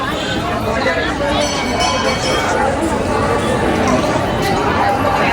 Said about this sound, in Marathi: मंदिराच्या आतमध्ये गर्दी पण भारी